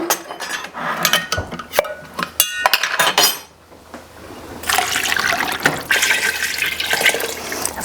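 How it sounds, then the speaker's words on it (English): Broth is poured from a carton over vegetables in a soup pot. Clinks of cookware come first, then a steady, close splashing pour of liquid that runs for several seconds, with no voices. "I'm going to add a bunch of broth, so enough broth to cover all the veggies that we put in here."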